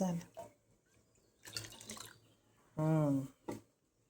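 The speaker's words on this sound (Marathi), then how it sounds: "पाणी अजून थोडंसं टाकते" Water is added in a short splash to a pot of sambar being cooked to go with idli. The brief pour is heard between bursts of someone talking nearby.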